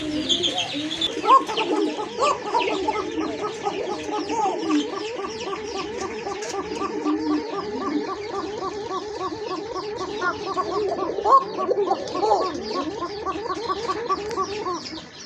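Pigeons at a market stall, a pair of coca pigeons among birds sold with eggs, cooing and clucking continuously in a dense, rhythmic chorus throughout, with people talking faintly in the background.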